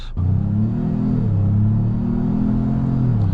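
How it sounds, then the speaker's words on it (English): A 2025 Ford Maverick Lobo pulls away in sport mode, its engine droning loud and close and rising in pitch, then dropping briefly as the transmission shifts quickly before climbing again. "here in sport mode, you can kind of hear those shifts are a little bit more aggressive, a little bit quicker, faster throttle response"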